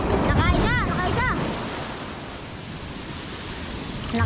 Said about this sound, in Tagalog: lalaki po ng alon